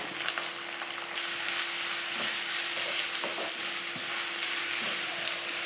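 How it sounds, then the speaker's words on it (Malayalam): Shallots and chopped onion sautéing in a hot iron pan, a loud continuous sizzle with stirring scrapes, while a steady hum sits underneath. "ഇനി അതിലേക്ക് നമുക്ക് എടുത്ത് വെച്ചിരിക്കുന്ന ചുവന്നുള്ളി ചേർത്ത് കൊടുക്കാം ആ കൂടെ തന്നെ സവോള അരിഞ്ഞതും കൂടെ ചേർക്കാം ഇനി ഇത് നല്ലപോലെ ഒന്ന് വരട്ടിയെടുക്കാം"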